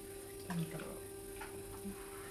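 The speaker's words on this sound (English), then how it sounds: "try to rinse my hands off" Tap water runs steadily while hands are rinsed in a pottery studio, a soft continuous wash over a faint electrical hum with a couple of small splashes.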